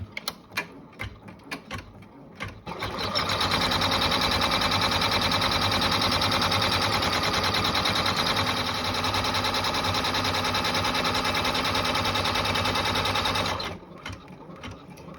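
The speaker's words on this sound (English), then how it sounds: "So then I'm going to stitch the next step." Sewing machine stitching towel fabric pieces together for a bath mitt, a steady, loud continuous whirring run of about eleven seconds, preceded and followed by brief handling clicks.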